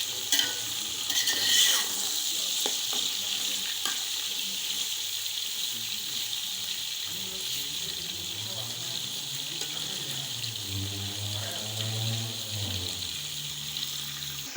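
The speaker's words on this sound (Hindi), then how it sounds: "ये देखिए कि जो चिकन है वो फ्राई हो रहा है" Chicken frying in a pan for Afghani Kabuli pulao gives a constant sizzle with busy stirring and scraping; a low tonal hum joins in during the later half.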